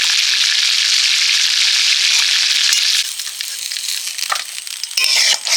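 Rohu fish pieces frying in mustard oil in an open kitchen at night: a loud, close, continuous sizzle for about three seconds, then a quieter spitting crackle with a few sharper pops.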